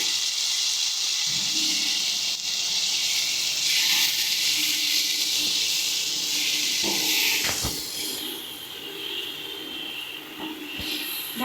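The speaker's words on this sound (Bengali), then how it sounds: "সামান্য একটু জল দিচ্ছি প্রথমে" Water poured into a pan of frying potatoes and spices raises a loud, steady sizzling hiss of steam. It eases later with a few clinks, and no one speaks.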